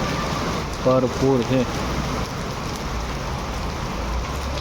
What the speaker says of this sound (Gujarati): એવો વરસાદ ચાલુ છે